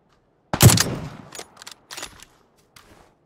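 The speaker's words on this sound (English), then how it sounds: "Somebody shot at me." Gunfire in PUBG: one loud, close rifle shot followed by a few quieter, more distant shots spaced apart, with no talking over them.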